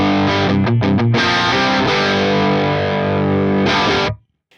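Electric guitar through an Axe-Fx III Mesa Mark amp model at stock settings, a loud distorted honky tone with a few quick chugs, then a sustained chord that cuts off near the end.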